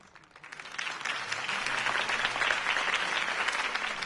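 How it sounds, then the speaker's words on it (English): A crowd breaks into applause that swells within the first second and stays loud and sustained, a dense wash of clapping, in the video game Telltale Batman. "could have heard that applause"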